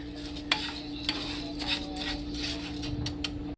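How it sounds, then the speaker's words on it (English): Rice is stirred and pushed around a pan in vegetable oil, making soft scraping and gritty shuffling under a low steady hum. Occasional utensil clicks against the pan punctuate it, all fairly quiet. "push that rice around so that it can get all coated with that vegetable oil"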